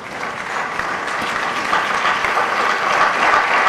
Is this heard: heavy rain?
no